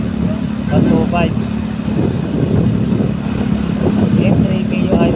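A Yamaha Mio M3 125 motorcycle engine idles roughly with an uneven sputter, close and steady throughout, while someone talks over it.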